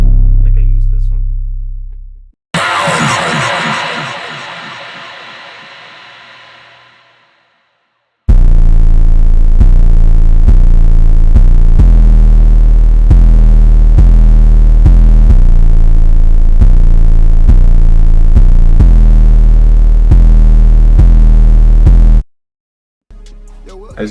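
Trap beat built in FL Studio with the Fruity Fast Distortion plugin, a loud, gritty, throbbing bass-heavy loop with punchy repeating drum hits, preceded by a short distorted melodic phrase and brief silences.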